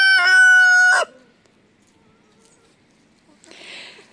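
A rooster crows loudly and close at a countryside farm with hens, one long call of about a second, then near silence before a brief burst of soft clucking and rustling from the hens.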